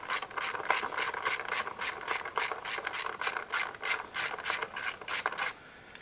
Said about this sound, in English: first thing you need to do is to take off this bolt. It secures the air filter housing onto the cam cover.